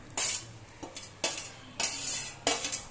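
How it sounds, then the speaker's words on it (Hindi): A spoon stirs hot milk with grated turmeric in a pot, giving four or five distinct metallic scrapes and clinks spaced about a second apart, close and fairly loud with no talk. "और एक चम्मच की मदद से चलाते हुए हम दूध को उबालेंगे"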